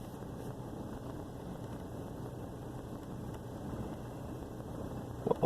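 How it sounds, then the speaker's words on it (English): Truck engine idling low and rough, a faint, steady low rumble with slight unevenness, continuous and without talk, ending with a brief clunk. "Still got a very rough idle and idling low."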